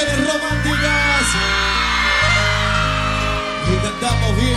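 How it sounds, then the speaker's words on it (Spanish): A crowd of women screams and cheers at a live romantic cumbia concert. The steady shouting runs without a break over loud band music with a pulsing bass line. "Quiero escuchar el grito de todas las mujeres románticas."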